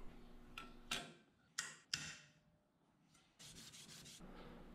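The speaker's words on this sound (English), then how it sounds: "hand sanding" A Damascus steel knife blade is hand sanded in short strokes, with a few distinct scraping rubs and a quicker run of rasping passes near the end, close and fairly quiet.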